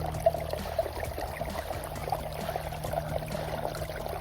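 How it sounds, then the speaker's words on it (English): Water runs steadily through a gold prospecting sluice loaded with black sand, a continuous low gurgling wash with faint splashes and a steady hum behind it, no voices. "Here's the sluice. It's running great."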